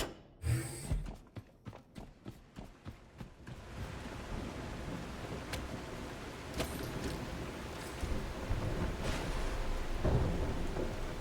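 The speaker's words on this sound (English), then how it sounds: "Rain." Heavy video game rain hisses steadily after a few sharp cracks, with deep thunder rumbling underneath; loud and enveloping, no voices.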